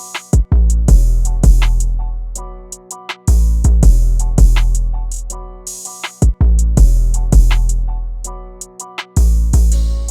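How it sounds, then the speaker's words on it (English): An FL Studio trap beat with booming kicks that each land together with an open hi-hat, over a repeating melodic loop, loud and rhythmic with no voices. "the last thing I added was this open hat right here that hits every time the kick hits"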